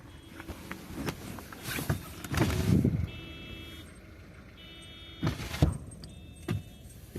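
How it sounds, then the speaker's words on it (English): A car alarm sounds outdoors, its thin electronic beeping tones coming in short intermittent bursts, fairly faint beneath rustling handling noise and vehicle rumble, with no talk. "Someone's car alarm was going off"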